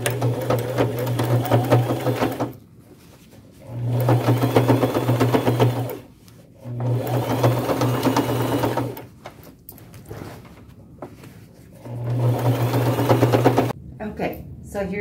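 A sewing machine stitches side panels onto a pair of upcycled overalls, running in four separate bursts of a few seconds each with brief quiet pauses between, close and fairly loud.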